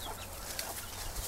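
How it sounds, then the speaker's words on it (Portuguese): A chicken clucks softly and at a distance in a backyard orchard where fruit trees are being pruned, the faint calls scattered over a steady low hum and outdoor background noise. "Aqui a galinha"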